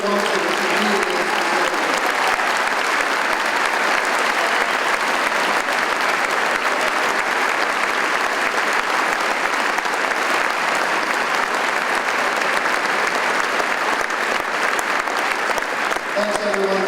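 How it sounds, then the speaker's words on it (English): An arena crowd at the Anderson Arena closing ceremony applauds loudly and continuously, a dense, even wash of clapping that fills the hall and never lets up. "Let's give these folks a round of applause"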